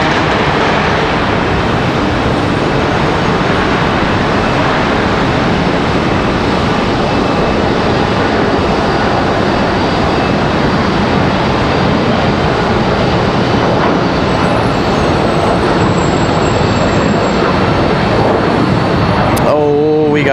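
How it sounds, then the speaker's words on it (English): An ERJ regional jet departs from Charlotte Douglas airport, its engines producing a loud, continuous broadband roar that holds steady throughout, close and unbroken. "So we move on to our next departure. It's going to be another ERJ."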